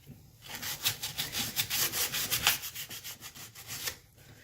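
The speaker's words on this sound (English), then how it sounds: "I'm going to take a piece of sandpaper. And I'm going to clean up them edges just a little bit." Sandpaper rubbed by hand along the edges of a trolling motor propeller, a quick series of about fifteen rhythmic back-and-forth scraping strokes, close and fairly loud, with no talking.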